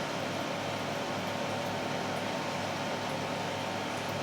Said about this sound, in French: c'est parce qu'il y a le ventilateur qui tourne.